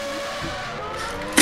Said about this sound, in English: He really made the car go vroom vroom.